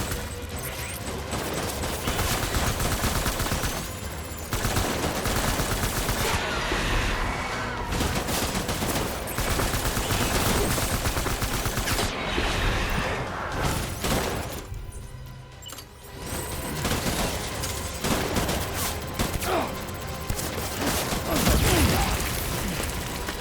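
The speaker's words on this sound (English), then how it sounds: "I need backup. Open fire." Dense, sustained gunfire in the video game Death Stranding, rapid automatic bursts layered with impacts that continue almost without pause, briefly thinning near the middle before resuming at full intensity.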